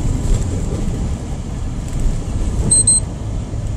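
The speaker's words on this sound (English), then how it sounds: "you hear that beeping? That was my that little system on the front of the truck." A proximity warning system on the front of a truck driving in New York City beeps in a short double burst of high tones, heard over a steady low rumble of cab and traffic noise.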